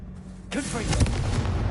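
A Confringo blasting spell goes off in Hogwarts Legacy, a sudden loud booming explosion that bursts in and then rumbles on with crackling debris for the rest of the moment.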